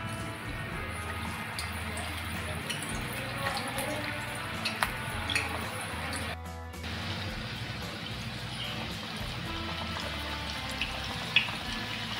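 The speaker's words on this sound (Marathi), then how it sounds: "तर आपण इथे तेल गरम करत ठेवलेलं आहे. आता आपण याच्यामध्ये भजी सोडणार आहोत." Small fenugreek fritters (methi bhaji) frying in hot oil make a steady, dense sizzle and bubbling hiss throughout, with a brief dip partway and occasional faint clinks.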